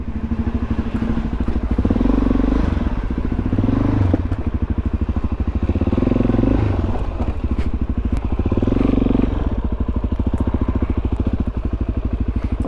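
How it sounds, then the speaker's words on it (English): A motorcycle is ridden around a large parking lot, its loud, close engine putting out a rapid steady pulse that swells and eases as the throttle rises and falls, with occasional thumps and rattles. "let's go ahead and hop on the bike, ride around a little bit"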